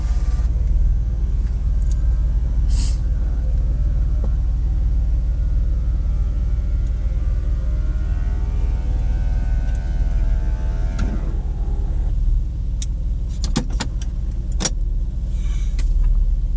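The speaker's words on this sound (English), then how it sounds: "go for a roof up" A 1999 Porsche Boxster 986 2.5L tiptronic convertible has its roof raised, heard from inside as a steady low cabin rumble with a rising mechanical whine midway, followed by a few sharp clicks and latching knocks.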